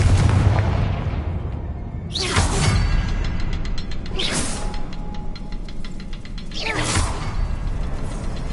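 Confringo blasting-spell explosions in Hogwarts Legacy, three loud booming bursts spaced a couple of seconds apart, each trailing off into crackling, rattling debris over a constant rumbling mechanical background.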